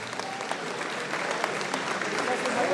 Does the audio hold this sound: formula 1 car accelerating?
no